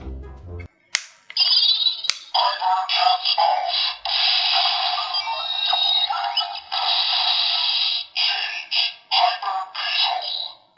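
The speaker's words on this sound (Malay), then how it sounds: "itu adalah bunyi dia bertukar menjadi hyper form" Electronic sounds from a bootleg KO CSM Hyper Zecter toy from Kamen Rider Kabuto during its hyper form transformation: a couple of sharp clicks, then a long, loud stretch of bright synthesized tones and effects pulsing in segments.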